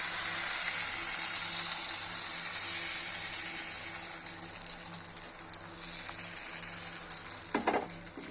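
Patishapta pitha batter sizzles steadily in an oiled pan, a loud, close hiss that fades slightly partway through, with a brief scrape near the end and no voices.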